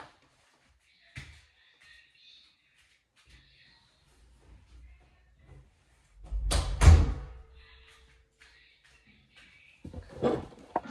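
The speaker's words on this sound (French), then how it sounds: "ferme la porte de ma chambre." A bedroom door is pushed shut with a single firm thud and latch click in a quiet room, followed later by a smaller knock.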